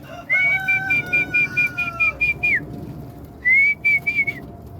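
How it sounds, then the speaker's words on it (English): A person gives a series of sharp, high whistles to call young pigeons to food: a long sustained note, then a run of short chirpy pulses, a pause, and another sustained whistle with short trailing blips, heard up close. "when I whistle they know there's food"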